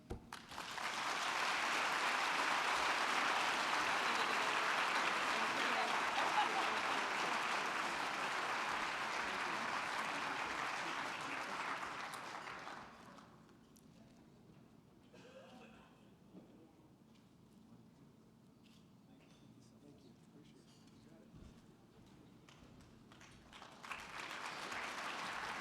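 Audience applause at a gala fills the room with dense, sustained clapping for about thirteen seconds before dying away into quiet room murmur, then a fresh burst of clapping rises near the end.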